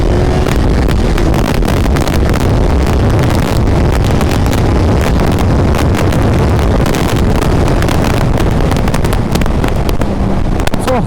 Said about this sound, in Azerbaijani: çox dəhşət külək var, qoymur sürməyə. Külək çoxdur.